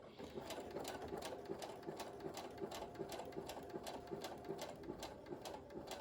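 A sewing machine stitches blue fabric for a cloth mask, running at a slow, steady pace with a continuous whirring hum and evenly spaced needle clicks, close and alone.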